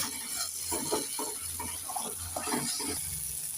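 Water is poured into a pan of Bengali lunch curry after the spice paste has been fried until the oil separates, making a steady splashing, bubbling pour at close range with no talking.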